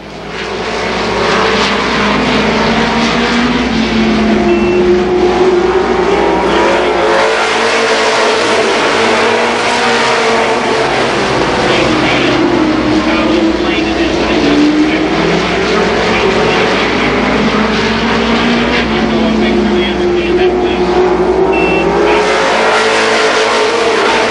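Super late model stock cars roar continuously around the Columbus Motor Speedway in a 1990 race, a loud, sustained engine drone with rising and falling pitch as cars pass, no talk audible over it.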